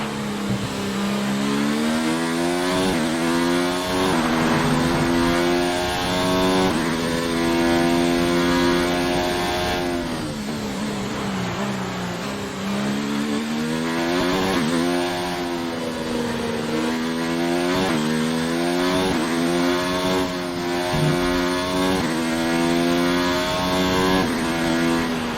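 A Formula 1 car in the F1 2019 racing game screams at high revs through a race at Australia, its engine pitch climbing and dropping repeatedly through gear changes, loud and continuous with no voices.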